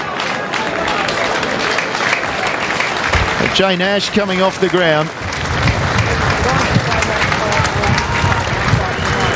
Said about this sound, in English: Getting a good round of applause.